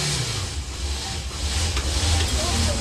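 Steady broadband hiss of steam escaping from an overheating Volvo 850 BTCC touring car, heard onboard and continuous throughout, with a low engine rumble underneath.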